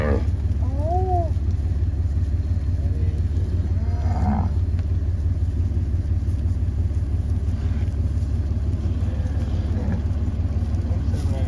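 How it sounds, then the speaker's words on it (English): A bull on a Brahman cattle ranch in Texas gives a couple of low moos over a constant rumbling vehicle engine, with people talking quietly nearby. "Oh, that's a bull."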